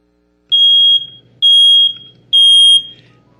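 A residential smoke alarm gives three loud, piercing high-pitched beeps, each about half a second long, in a steady repeating pattern with a low background hum between them.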